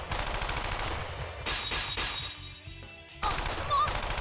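Heavy artillery gunfire in a video game, bursts of rapid shots and blasts in several loud clusters with brief lulls between them.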